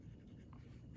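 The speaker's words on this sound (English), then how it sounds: "So let me write Pilot, this is an M," Pilot Metropolitan Retro Pop Red fountain pen with a cursive medium nib writing on paper, a faint, close scratching of nib strokes under low room hiss.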